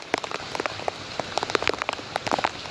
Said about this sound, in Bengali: বৃষ্টির পানি।